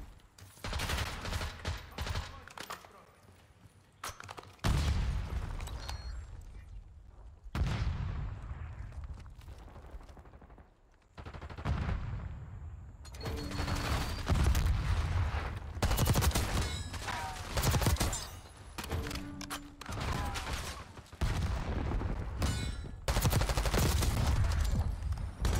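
Gunfire in a mobile shooter game rings out in repeated sharp bursts and volleys, loud and close, with short gaps between clusters of shots and a few quieter stretches.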